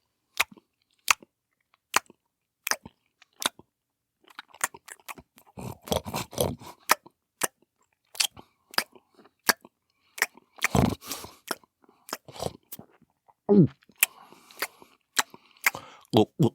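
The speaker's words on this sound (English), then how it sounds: "I can't listen to you mouth chomp your food" Loud, wet mouth chomping on food: sharp, crisp smacks come in an uneven rhythm, very close, with clustered crunchy chewing bursts between them and some talk mixed in.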